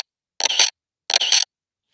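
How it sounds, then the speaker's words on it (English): Two crisp retro camera shutter clicks from an SFX Pro 9000 synth preset, each a short double-snap burst, heard alone with silence between. "It's a more retro sounding camera. I like the way shutter 1 sounds fast."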